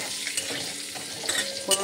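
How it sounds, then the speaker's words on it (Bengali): Dried red chillies, whole garam masala and cumin seeds fry in hot oil for a Bengali prawn and banana flower dish, giving a steady close sizzle with a brief stirring scrape near the end. "একটু ভাজা হতে না হতেই আমি এর মধ্যে গোটা গরম মশলা আর জিরে ফোড়ন দিয়ে দিলাম।"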